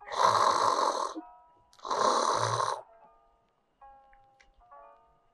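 A voice imitates snoring with two long, loud rasping breaths, followed by faint scattered ticks and quiet.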